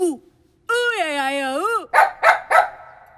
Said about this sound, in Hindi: फिर ये कुत्ता भौंकता है